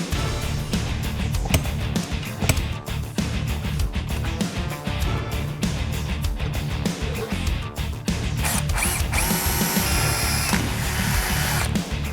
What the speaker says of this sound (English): we're just gonna drill a 1/4 inch hole, run a tap in it